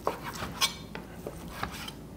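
Cooked Korean BBQ chicken being cut into pieces for tacos, with a knife or utensil clicking and scraping against a tray or board in scattered light taps and clinks, close and fairly quiet.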